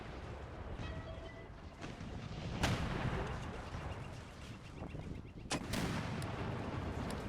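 Cannon artillery fire in the Empire Total War game, two sharp booming reports about three seconds apart over a steady battle rumble.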